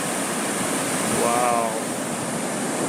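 Ocean waves break at Avellanas Beach, making a continuous, even roar of surf, while a voice briefly exclaims over it.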